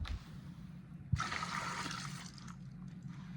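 Liquid cleaning solution of detergent mixed with soap and vinegar being poured: a soft thud, then a steady gushing pour for about a second that tapers into a faint trickle, fairly close and quiet.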